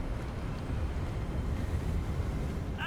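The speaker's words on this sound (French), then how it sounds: "Bon, il y a un peu du vent là." Steady wind gusts sweeping across an open coastal landscape in the video game Hogwarts Legacy, a continuous broadband rush with no voices, holding even in loudness throughout.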